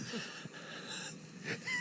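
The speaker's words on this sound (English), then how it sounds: "pay no attention to my breathing" Wheezy, rasping human breathing, close and quiet, drawn in a few uneven breaths with a rougher catch near the end.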